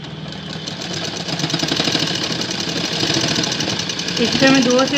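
A sewing machine stitches elastic onto a skirt waistband, its steady mechanical whirr running continuously for the whole stretch beneath a speaking voice.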